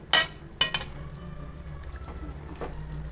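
Mutton curry masala frying in oil as the oil separates, with a few sharp sizzling bursts and spatula scrapes near the start, then a steady low crackle of simmering.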